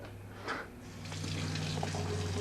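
Water runs and pours into a container, the fill note rising steadily over a couple of seconds, close and fairly quiet.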